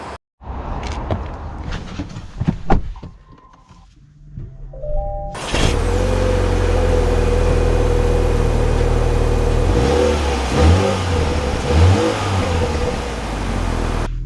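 A 2024 Acura TLX sports sedan: door and cabin clunks, then the engine starts and settles into a loud, steady run with rising and falling tones as the car accelerates.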